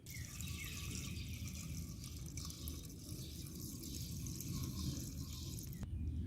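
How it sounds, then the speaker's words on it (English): Fresh gasoline poured into a Toro lawn mower's fuel tank, a soft continuous trickling and gurgling of liquid, faint and close, ending with a small knock. "Basically what I need to do is just pour some fresh gas in the lawnmower"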